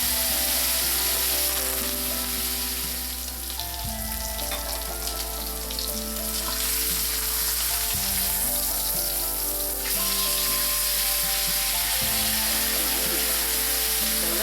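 Steak sears in a pan with garlic herb butter, making a loud, continuous sizzle and hiss throughout. Background music with sustained tones plays under the frying.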